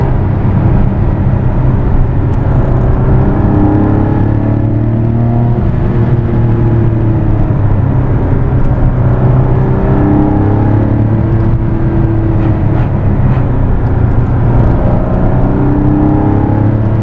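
Modified Porsche 964 with a 3.8 engine under way, a loud continuous engine drone with shifting, rising and falling tones as it pulls, heard from inside the cabin with no talk.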